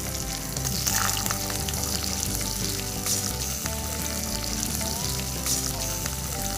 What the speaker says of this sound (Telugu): అలాగే పొడి పొడిగా ఉల్లిపాయలు వేసుకోవాలి.